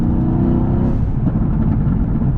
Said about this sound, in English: You can definitely hear the crackles and the burbles and the pops.